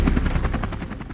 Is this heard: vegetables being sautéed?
no